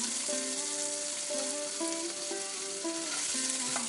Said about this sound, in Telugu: నూనె బాగా వేడెక్కిన తర్వాత అందులో ఉల్లిపాయలు, పచ్చిమిరపకాయలు, అలాగే కొంచెం పసుపు వేసుకుని బాగా కలుపుకొని మగ్గనివ్వాలి